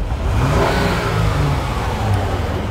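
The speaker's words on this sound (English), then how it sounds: "Give it a few revs." A 2011 Honda Odyssey Touring's V6 engine revs up loudly and steadily, a close, continuous rising and falling engine roar with no talking over it.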